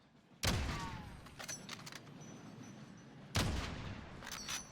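AX50 sniper rifle in Modern Warfare firing two sharp, loud shots about three seconds apart, each with a booming tail and mechanical bolt clicks between them.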